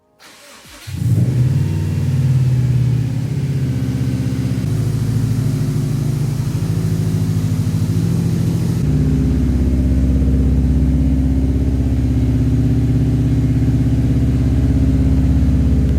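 A Subaru STI engine cranks and fires after a second, then settles into a loud, steady idle close by, its pitch and level stepping up twice as it runs on.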